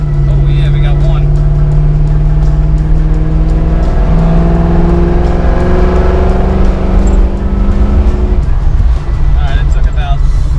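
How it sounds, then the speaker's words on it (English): A 1972 Chevy Nova with an LS3 V8 engine accelerates hard, its loud roar climbing steadily in pitch over ten seconds before backing off, with wheels squealing somewhere under the engine noise. "let's see if we can try to get the wheels to at least squeal a little bit here"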